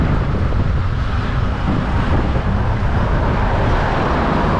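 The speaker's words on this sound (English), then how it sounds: "apart from the headwind that I've just turned into" A headwind buffets a microphone on a bicycle ride under an overcast sky, making a constant loud rumbling roar of wind noise with no pause and no voices.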